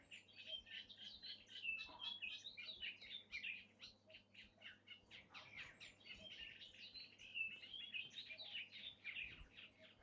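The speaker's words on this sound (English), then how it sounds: "Nice sound of cuckoo." Outdoor birdsong with repeated bright chirping calls scattered through the stretch, fairly faint and at a distance over a low steady hum, with no voices.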